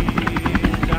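A voice imitates a helicopter with a fast, rhythmic throbbing chop that mimics rotor blades, loud and close, during play of the game Getting Over It.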